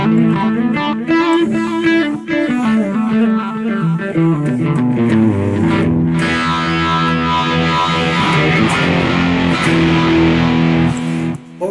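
Electric guitar through a BOSS eBAND JS-10 set for a 1969-style tone with reverb, playing a loud, continuous distorted melodic line with bending notes and sustained chords, no talk.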